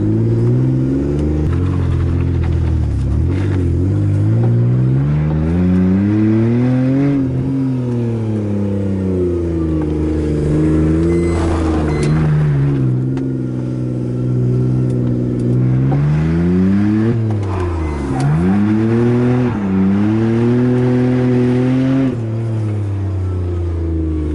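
A BMW E46 drift car's engine revs repeatedly while driving, loud and close, its pitch climbing and falling through several rises and drops with no talking over it.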